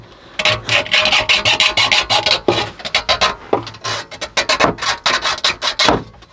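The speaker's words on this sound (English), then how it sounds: "Now we just need to cut that wire pretty much." Wire being cut by hand in the cramped quarters of a boat during a Vetus NLP waterlock muffler install, heard as a rapid run of close, rasping scrapes and snips with short pauses between strokes.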